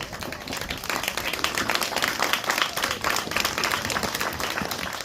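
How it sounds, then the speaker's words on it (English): An audience at a formal community ceremony gives another round of applause, standing as they clap: many hands produce a thick, crackling patter that swells after the first second and holds steady, with no one speaking. "Can we stand and give JACRA another round of applause?"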